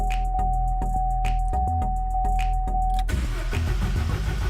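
A Vauxhall Corsa with an intermittent no-start fault cranks in a series of short bursts, then catches and settles into a loud, steady idle close by.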